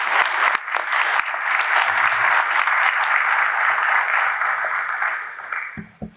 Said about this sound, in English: will you please welcome with me, with applause, our CEO